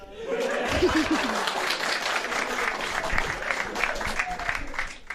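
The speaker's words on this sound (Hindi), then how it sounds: "ताली बजाओ।" Applause from a stand-up comedy audience, a continuous patter of clapping mixed with some chuckles, fairly soft and steady, with a voice briefly speaking at the start.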